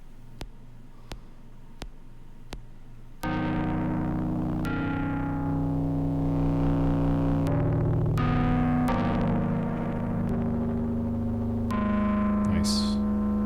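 A Voltor distortion audio unit modelled on the Culture Vulture: a few sparse soft clicks, then loud, thick, saturated sustained synth tones that shift chord every second or two, with a brief bright noisy flare near the end.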